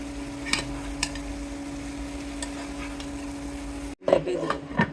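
Sponge gourd curry with fried fish gets stirred in a pan, with scraping strokes and a soft sizzle over a steady hum, then a louder burst of stirring near the end while a person talks.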